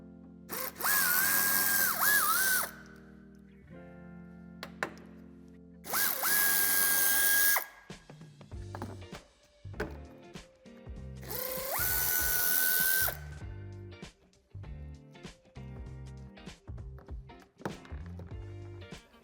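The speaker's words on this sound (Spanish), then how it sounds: "Con la ayuda de un vaso de Torx de 15 aflojaremos y podremos sacar la grapa." Power tool with a Torx 15 socket loosening threaded plastic clips during tow hitch fitting on an Audi Q, three loud whirring bursts separated by pauses filled with clicks and handling sounds.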